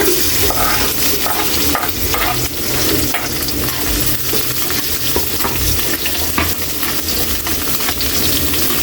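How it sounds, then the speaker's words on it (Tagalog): Garlic dropped into hot cooking oil, a loud, dense, continuous sizzle and crackle heard close up throughout, with no talking. "Ilagay na natin yung bawang, unahin natin, mainit yung mantika natin."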